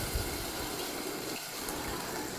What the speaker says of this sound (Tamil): 1 கப் அரிசிக்கு 1½ கப் தண்ணி ஊற்றிக்கோங்க.